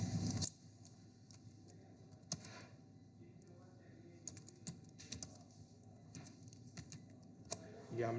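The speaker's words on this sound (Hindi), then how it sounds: "ये हमने फुल नेम लिख दिया जी, आसिफ बालाज लिख दिया।" Typing a full name on a computer keyboard, sparse soft key clicks scattered across the stretch with a few sharper taps, close and quiet, after a brief murmur at the start.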